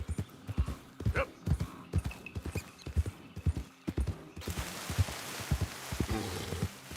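In Red Dead Redemption 2, a horse's hooves clip-clop repeatedly at a steady trot, then the horse whinnies briefly near the end over a rough, noisy background.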